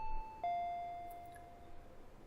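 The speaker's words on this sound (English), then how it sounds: "I heard the doorbell ringing." A doorbell rings once with a clear electronic chime, a bright ding that rings out and slowly decays in an otherwise quiet room.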